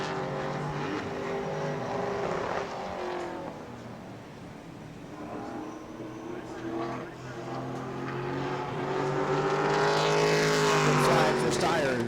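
A Pro Late Model race car on a qualifying lap at New Smyrna, its engine droning steadily and rising to a louder, higher pitch toward the end, with an announcer talking over it throughout.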